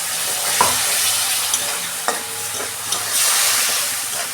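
Ginger-garlic paste frying with onions in a pan, a loud continuous sizzle close up, broken by a few sharp spoon taps and stirring scrapes.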